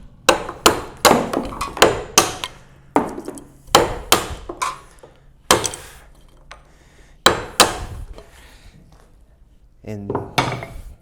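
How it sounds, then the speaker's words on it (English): Chisel struck repeatedly to make coarse stopping cuts in a wooden workbench cove, sharp close knocks in a loose rhythm of about a dozen blows with short pauses between. "We're making some stopping cuts into this little cove here, and we'll just take a chisel"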